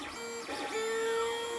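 A 3D printer runs steadily while printing a hollow tube. Its stepper motors whine with tonal sweeps that rise and fall, then hold a sustained pitch, close and continuous.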